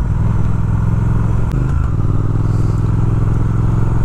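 A 2019 Triumph Speed Twin motorcycle is ridden on the road, its twin engine giving a steady, loud throbbing drone from close by, with no voices.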